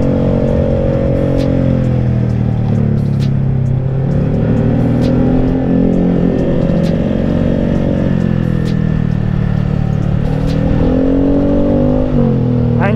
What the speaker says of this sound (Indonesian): suara knalpotnya enak anjir